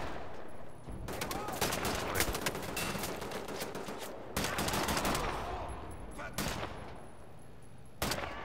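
Semi-automatic M19 fire during a Wolfenstein: The New Order campaign playthrough: loud, dense bursts of shots come in several separate volleys with short gaps between them, and game sound fills the rest of the clip.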